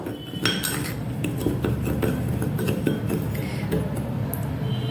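A spoon scrapes and clinks against a bowl while stirring sugar, chaat masala and black salt together, a steady series of close metallic taps and rattles.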